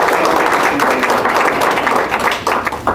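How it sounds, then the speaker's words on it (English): Applause from an audience at a business networking event, a dense steady wash of clapping held loudly for a few seconds with some voices mixed in. "I actually would like a round of applause for them"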